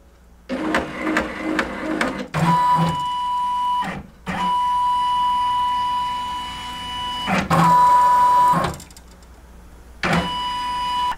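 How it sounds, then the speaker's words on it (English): ScanNCut machine scanning an embroidery frame, a steady electronic motor whir with a high whine running in several long passes, broken by brief mechanical clunks and short pauses, close and fairly loud. "I'm going to touch it. And it's going to scan the frame."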